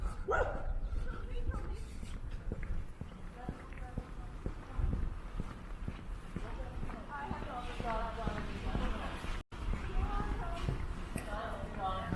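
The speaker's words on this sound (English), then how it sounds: "And we found all the dogs." Dogs bark in short bursts during a winter walk along snowy, slushy laneways in Toronto's Cabbagetown, with crunching footsteps and people talking throughout.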